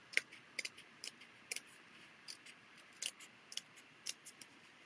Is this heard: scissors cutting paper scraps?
yes